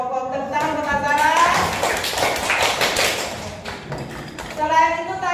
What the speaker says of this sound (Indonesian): tepuk tangan Bapak Izra.